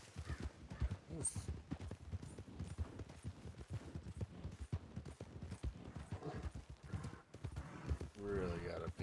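Video game horse hooves clop steadily while someone talks over them, ending with a horse's whinny near the close.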